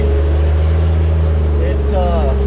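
Constant loud engine drone and road noise from a car driving around looking for a vin class race, with a voice speaking briefly over the steady hum.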